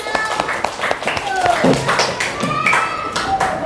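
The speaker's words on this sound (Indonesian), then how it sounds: "Oke, tepuk tangan." Elementary classroom children clapping together on cue in a class IV lesson, with rhythmic hand claps mixed with children's voices and chatter.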